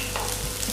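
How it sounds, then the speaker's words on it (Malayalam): Chopped garlic frying in hot oil for an egg roast, a steady, close sizzle with faint stirring, continuous and without speech. "ഇപ്പോൾ ഓയിൽ ചൂടായിട്ടുണ്ട്. നമുക്കതിലേക്ക് വെളുത്തുള്ളി ചെറുതായി അരിഞ്ഞത്,"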